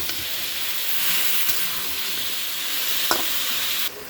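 Mixed vegetables stir-frying in a pan with a steady close sizzle and hiss, broken by a few sharp spatula knocks, then the sizzle drops off abruptly near the end.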